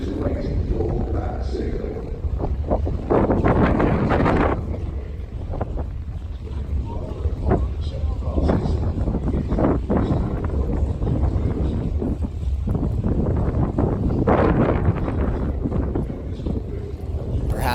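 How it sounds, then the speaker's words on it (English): Steady wind buffets the microphone at Bandimere Speedway during a drag racing event, a loud, continuous broadband rush with gusty swells that stays strong for the whole stretch. "Listen to that wind too"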